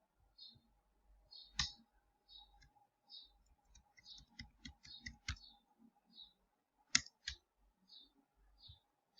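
Sharp computer mouse clicks, some single and some in quick pairs, sound close and crisp over near silence while working in Mendeley desktop and Microsoft Word.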